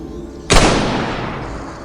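A single sharp pistol shot cracks out abruptly after a brief quiet lead-in, loud and close, then trails into a long fading roar of echo and rumble.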